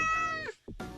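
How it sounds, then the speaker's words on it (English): A cat meows twice in quick succession, close and fairly clear, the first call long and drawn out, the second short, with a brief gap of near silence between them. "It's a cat."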